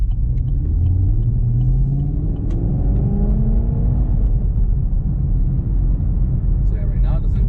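A 6th-gen Camaro running on E85 roars under wide-open-throttle acceleration, its rising engine note sweeping upward loud and close, then settling into a steady heavy rumble.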